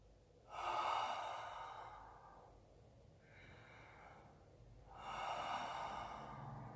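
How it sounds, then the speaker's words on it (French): Deep open-mouth breathing exercise: two long, loud, breathy airflow sounds with a quieter breath between them, close and alone with no talk. "on respire bouche ouverte. On gonfle la poitrine le plus possible à l'inspiration. Et on relâche tout en arrière à l'expiration."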